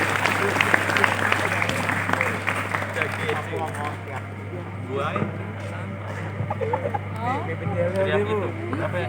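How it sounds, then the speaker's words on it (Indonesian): Audience applause at a school Ramadan event with a speech contest at SMA Muhammadiyah 5 Jakarta, steady dense clapping from a crowd running under an emcee's voice, with a constant low hum throughout. "Tepuk tangan buat kita semua"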